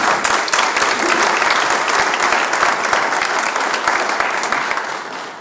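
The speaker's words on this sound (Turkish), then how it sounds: "Kendinizi alkışlayın." Assembly members at an Ankara Chamber of Industry council meeting break into dense, steady applause that fills the room at an even level before thinning slightly at the end.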